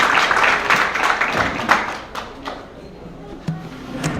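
A crowd at a Kashmiri American Alliance New Year celebration and opening ceremony claps for a congressional representative, fairly loud at first, then thinning out within a few seconds as a voice comes in.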